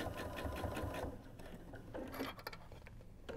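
A sewing machine stitches quilt-as-you-go hexagon patches in a fast, steady mechanical patter for about a second, then stops, followed by quieter handling clatter and light clicks.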